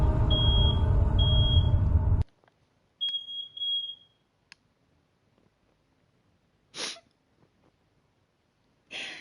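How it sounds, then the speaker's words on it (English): A household smoke alarm goes off with shrill electronic beeps: two short pulses over a loud rush of noise, then a longer beep alone after the noise cuts out, followed by a few scattered knocks and a sharp burst. "Did you set off the smoke alarm?"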